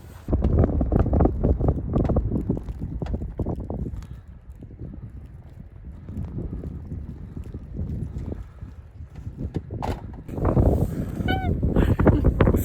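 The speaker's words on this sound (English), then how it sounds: "It's quite cold, quite windy now." Cold, gusty wind buffets the microphone on a snowy roadside at the Devil's Elbow on the A93 near Glenshee in Scotland's Cairngorms, a loud, broadband rumble that eases midway and then surges again, with no talking.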